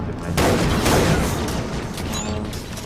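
Grenade blast in the video game Far Cry 3 Blood Dragon, a loud close boom that rumbles on for a couple of seconds with crackling debris.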